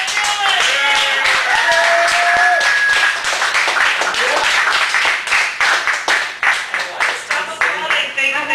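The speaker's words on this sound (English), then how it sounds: "Stop applauding, thank you." Clapping and cheering from an audience at a cafe reading in Chicago, with whoops and voices over the claps; the applause thins into scattered, sharper individual claps in the later seconds.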